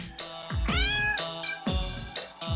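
Cartoonish cat meowing from the video game Blippo+, several clear, tonal meows in quick succession, close and prominent with no talk over them.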